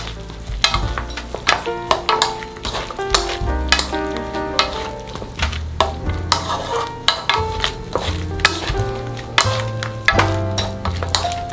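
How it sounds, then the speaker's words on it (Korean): Broccoli and crab stick stir-fry stirred in a pan after the heat is turned off, with rhythmic scraping and clattering strokes over a soft sizzle, close and fairly loud. "불을 끈 다음에 나머지 남아있는 열로 한 번만 살짝 섞어주세요."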